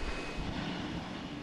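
Boeing 787 Dreamliner engines giving a steady, moderately distant roar, a broad continuous rumble with no voices over it.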